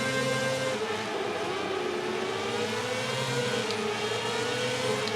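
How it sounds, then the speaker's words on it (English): Motorcycle engines rev on the grid at a MotoGP 18 video game race start at Brno, a dense, continuous high whine of several bikes holding revs at a steady loud level. "So there's Mario revving up at the start then from 5th, waiting for the lights to go out."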